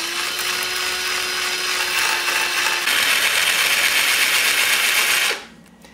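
A drill bores a through-hole in terrarium glass for ventilation, a loud continuous grinding whine that shifts pitch midway and then stops abruptly near the end, close and with no talking.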